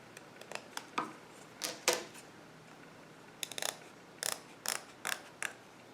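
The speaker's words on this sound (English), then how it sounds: "then you're going to cut the excess" Scissors snip through the excess edge of a crochet panel with a series of crisp, close cuts, some in quick pairs and others spaced apart, over a quiet room.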